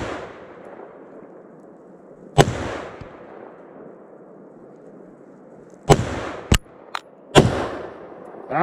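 Sharp outdoor rifle shots from a Sig Sauer M400 AR-15, one isolated crack followed by a quick cluster of three or four shots, each leaving a short echoing tail in open air.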